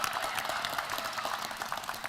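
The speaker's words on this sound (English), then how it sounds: "let's have a round of applause for all of our athletes representing one stacked PFC 32 fight" Steady, dense applause from a crowd at a PFC 32 MMA fight card press conference, continuous and fairly even for about two seconds with no speech over it.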